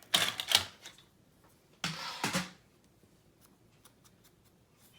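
Scissors cutting a sheet of paper in half for a handmade recipe mini album, two short crisp snipping bursts close by, separated by quiet, with no talk.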